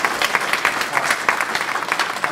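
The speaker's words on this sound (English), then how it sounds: "Let's just go ahead and clap our hands today." An audience at a security conference gives a short burst of steady, dense applause, close and loud, with no talk over it.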